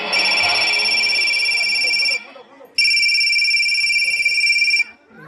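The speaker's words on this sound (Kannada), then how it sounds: "ಒಂದು ದಿನ ಹೆಂಡತಿಗೆ ಪರಿಚಯಸ್ಥರ ಫೋನ್ ಕಾಲ್ ಒಂದು ಬರುತ್ತದೆ" A telephone rings for an incoming call: two loud, close, sustained electronic rings separated by a brief pause, the second ring cutting off just before the end.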